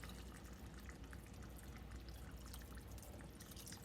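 Two cups of water pouring into a cooking pot of beef and macaroni, a steady continuous splashing gush that holds evenly throughout, close and fairly loud with no talk.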